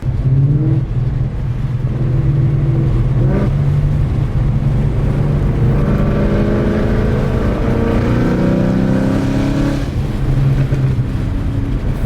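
A modified car engine and exhaust pull hard under acceleration, loud and close, with the pitch rising through the gears and a brief dip at each shift.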